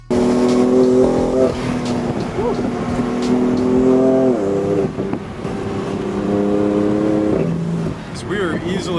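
A tuned Stage 2 BM3 BMW F80 M3, rear-wheel drive, pulls hard on back roads, its engine loud and close with rising harmonic revs that drop at each shift and climb again, over steady road noise.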